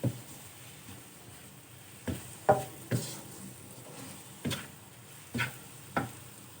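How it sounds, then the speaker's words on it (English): Mushrooms cooking in a pan sizzle softly under a steady low frying hiss, broken by several sharp clicks and taps of a utensil against the pan. "So let the mushrooms cook until it softens."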